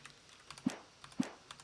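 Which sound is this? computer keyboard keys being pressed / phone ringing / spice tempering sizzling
computer keyboard keys being pressed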